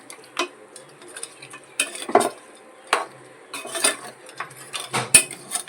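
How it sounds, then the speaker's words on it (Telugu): A spoon stirs goat head meat curry in a pot, giving repeated close scraping and clattering strokes in irregular bursts, with no voices. "ఒక్కసారి కలుపుదాం కదా"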